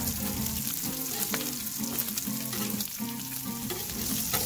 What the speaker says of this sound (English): Gotta love bacon on the Blackstone.